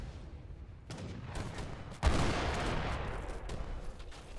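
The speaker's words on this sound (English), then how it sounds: "Fucking organ guns dodging a fucking bombard shot there." Organ gun volleys and bombard artillery fire in the Age of Empires 3 video game, a dense crackling burst of gunfire with a heavier boom midway, faint and continuous, with no talk.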